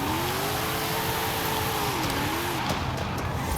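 A 2022 Cadillac CT4-V Blackwing with a rear-wheel-drive drift tune in Forza Horizon 5 slides through a drift, its engine note wavering up and down over a rough tire roar, close and loud with no talking.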